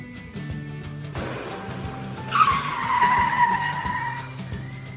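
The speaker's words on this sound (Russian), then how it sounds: "Спортивный автомобиль." A sports car skids, its tires squealing loudly for about two seconds over a steady engine drone.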